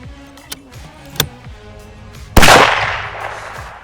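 A hunting rifle fired at a 200-yard target: one sharp, loud close blast with a long ringing decay, after a few faint knocks and handling sounds.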